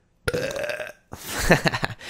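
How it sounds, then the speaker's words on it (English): A single loud burp stretches for most of a second, followed after a brief pause by a second, rougher belch with gurgling pulses, both close and isolated with no talking. "I gotta burp."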